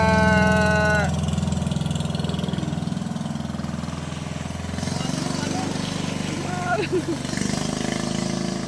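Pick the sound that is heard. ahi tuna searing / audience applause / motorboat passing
motorboat passing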